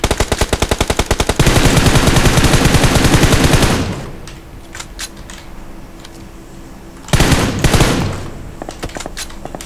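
Rapid automatic gunfire from PUBG Mobile rattles loudly in dense bursts, a long volley at the start, a quieter stretch of scattered distant shots, then another heavy burst near the end.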